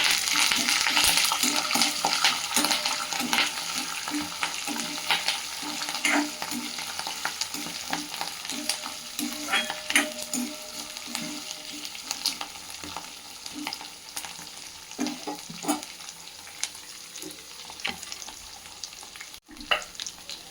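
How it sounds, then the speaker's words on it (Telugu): Cashews, raisins, green chilli, onion and curry leaves sizzle in hot oil in a pan for poha upma, with a continuous close frying hiss, occasional spoon stirs and soft clinks against the pan. "కిస్మిస్ మిర్చి వేస్తున్నాను ఆనియన్ వేస్తున్నాను కరివేపాకు వేస్తున్నాను"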